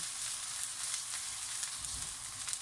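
Onions softening in a frying pan make a soft, even sizzle that runs without a break and stays fairly quiet, with no voices.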